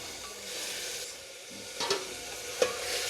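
Urad dal dropped into hot oil browned for tempering, crackling and sizzling in a steady hiss, with a few light clinks of a spoon against the pot.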